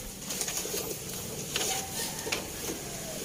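Pigeons being fed, soft cooing and bird calls mixed with light rustling and flutters close by, fairly quiet against a steady outdoor background.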